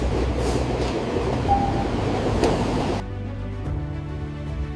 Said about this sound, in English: Train every 2 minutes.